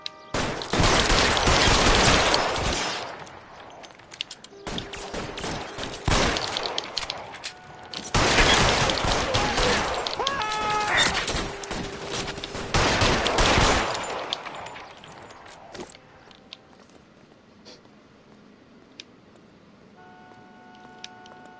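Heavy bursts of rapid gunfire in a PS4 video game shootout, several loud volleys of crackling shots separated by brief pauses, then tailing off into quieter ambience with a faint tone.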